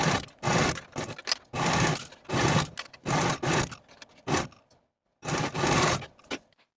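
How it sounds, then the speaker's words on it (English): A sewing machine stitches a dress bodice seam in a string of short, fairly close bursts, each roughly half a second long with brief pauses between them and a longer gap near the end. "Then sew this seam from one side to the other with a 1/4 inch seam allowance."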